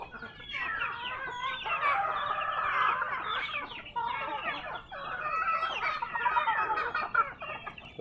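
A flock of farm chickens clucks busily and close, with overlapping calls in bursts and a rooster crowing among them, with no talk over the clucking.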